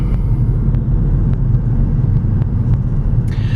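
Inside a 2015 Volkswagen GTI on the move, a steady, loud engine and road rumble drones throughout, with faint brief clicks over it and a short hiss near the end; no one speaks.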